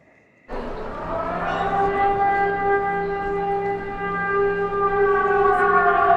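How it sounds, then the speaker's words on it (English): After a moment of quiet, an air raid siren starts up and wails continuously, a loud rising tone that holds steady and carries through the air. "For the first time, I'm hearing a siren go off."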